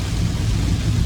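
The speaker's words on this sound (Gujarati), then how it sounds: "એટલો બધો વરસાદ પડી રહ્યો છે" Heavy rain drums steadily on a car roof and windshield during a drive, a dense, loud, continuous wash of noise with a deep rumble underneath and no voices.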